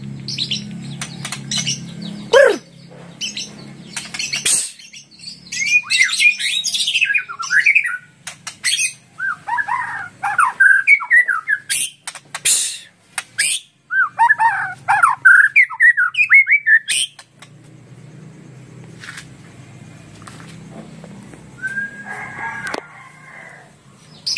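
A loud white-rumped shama calls close by in long bursts of harsh squawks, rich whistles and warbling phrases, broken by short pauses and a few rustles.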